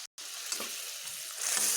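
Ground spice paste with turmeric hits hot oil in a frying pan, bursting into a loud, steady hiss that swells near the end, right after a brief silent gap at the start.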